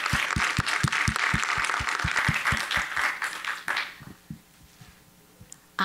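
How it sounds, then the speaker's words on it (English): An audience at a panel discussion on Black storytelling and children's literature applauds, with crowd clapping and a few distinct, close, rhythmic claps that die away after about four seconds into a quieter room. "I want to give another round of applause to all of our panelists and to Ms. Muse for organizing"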